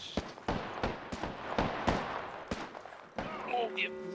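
Repeated gunshots ring out in Apex Legends ranked match, several sharp cracks spaced about half a second apart, moderately loud, with a brief tonal in-game effect near the end.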